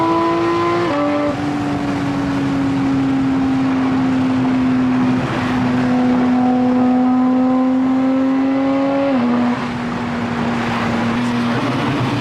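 A straight-piped 2023 Porsche GT4RS engine roars loud and close, its steady harmonic tone holding and shifting pitch as it revs and accelerates through gear changes on Miami streets, with no talk over it.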